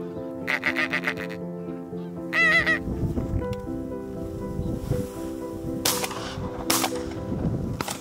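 Geese honk on a farm on the Isle of Muck, several loud nasal calls in short bursts, near and clear, with open-air background noise between them.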